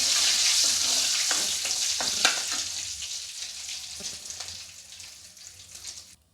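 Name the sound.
whole spices frying in oil for cauliflower gravy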